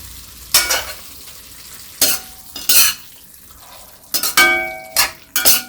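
Spicy pumpkin curry with fresh coriander stirred in a pan, with bursts of scraping and clinking spoon strokes over a soft background sizzle, close and irregular.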